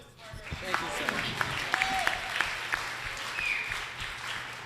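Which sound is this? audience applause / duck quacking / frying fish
audience applause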